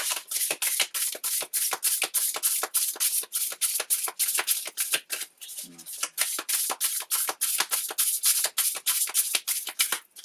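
A deck of oracle cards shuffled by hand, a fast regular riffle of crisp papery flicks repeating steadily and close up, with a brief pause midway.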